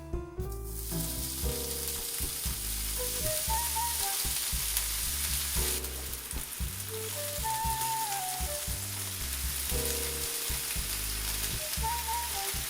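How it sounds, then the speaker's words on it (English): Bacon strips fry on a Vevor 22-inch 1600W electric flat top griddle with a steady, dense crackling sizzle that holds evenly from start to finish, close up, with no voices. "What I want to do is cook a few strips of bacon for the first cook."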